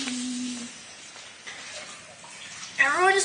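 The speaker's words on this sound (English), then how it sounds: "they want me to turn off the water" A kitchen tap runs in a home kitchen during cake baking, a soft, steady stream of water under brief speech and a voice near the end.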